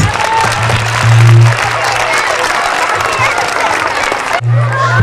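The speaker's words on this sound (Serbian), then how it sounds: "Mislim da su deci iz vrtića Bubamara zaslužili jedan veliki aplauz." A crowd gives loud, sustained applause with some cheering for kindergarten children performing at a kindergarten carnival in Kula, close and full, with low hum and some talking mixed in.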